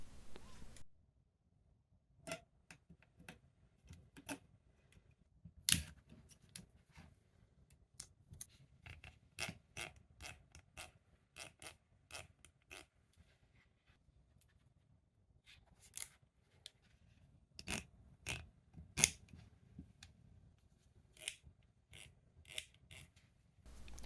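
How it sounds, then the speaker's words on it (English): The metal slider on a pair of Roseselsa 'Distant Mountain' on-ear headphones being adjusted, giving quiet, close scraping clicks in irregular bursts, some sharper ratchet-like ticks among soft rubbing. "Listen to this metal slide."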